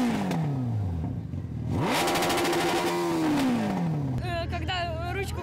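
Several motorcycles rev loudly at an outdoor event, engines rising and falling in pitch through repeated throttle blips, with a higher-revving bike joining near the end; steady background noise underneath.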